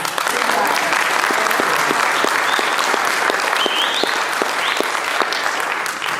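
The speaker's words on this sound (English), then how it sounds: "is a great round of applause." A roomful of people at a city emergency-preparedness ambassador meeting in Coconut Creek break into steady applause, a continuous dense clapping with a few sharper individual claps, holding evenly throughout.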